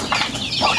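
Chickens let out of their pen flap their wings and cluck in a quick, close burst of feathery beats and short fowl calls.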